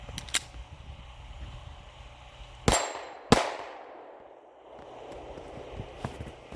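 Two sharp shots from a Taurus G3c pistol loaded with steel ammo ring out about half a second apart, each with a short echoing tail, over a quiet outdoor background.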